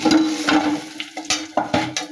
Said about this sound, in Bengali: তারপরে মাছ ভাজা হচ্ছে, এই মাছ ভাজা তুলে নিলাম।